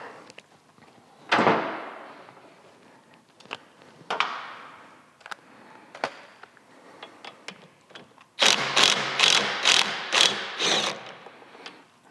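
Repeated bursts of ratchet clicking as a T50 bit on a long extension works loose a rear shock bolt on a Harley Softail, with a loud clattering run of rapid clicks near the end, all close up with no talk.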